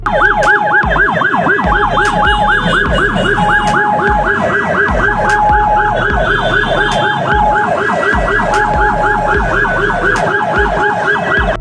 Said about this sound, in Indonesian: terdengar sirine dari sebuah mobil ambulans